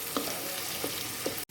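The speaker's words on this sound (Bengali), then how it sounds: "এবার একটু হলুদ গুঁড়ো দিলাম আর একটু কাশ্মীরি লঙ্কার গুঁড়ো দিলাম, দিয়ে কষে নিচ্ছি।" Turmeric and Kashmiri chilli powder sautéing in a pan for a vegetarian biryani, giving a steady low sizzle with a few soft stirring scrapes, ending in a brief cut to silence.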